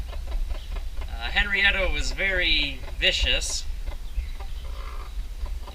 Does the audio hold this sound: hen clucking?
yes